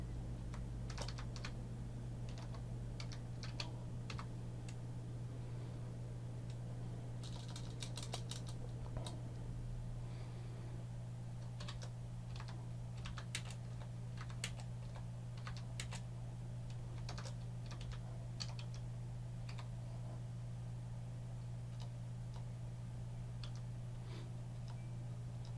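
Keystrokes on a computer keyboard tapping out a login entry, irregular clusters of clicks spread across the whole stretch over a steady low electrical hum, moderately close and fairly quiet.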